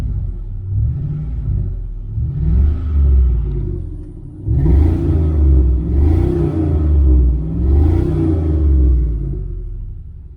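A 2001 car engine idles with a steady low rumble, swelling in a few gentle surges, close by with no talk.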